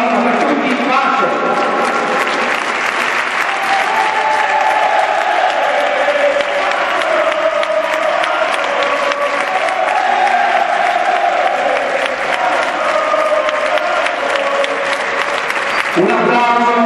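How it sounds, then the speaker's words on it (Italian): A crowd at a basketball game in Vigevano applauds in tribute to a deceased former player. The clapping is loud, dense and continuous throughout, with crowd noise underneath. "Un applauso."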